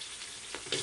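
Ingredients sautéing in a hot pan during home birthday cooking, a brief steady sizzle with a couple of small crackling pops near the end, close and fairly soft.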